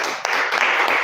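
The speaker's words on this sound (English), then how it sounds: "I think you should clap for Dealhq." An audience at an undergraduate law essay competition awards ceremony breaks into applause, a dense, continuous wash of clapping filling the short moment.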